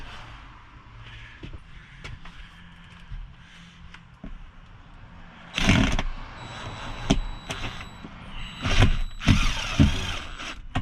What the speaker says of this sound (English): I'm drilling into the roof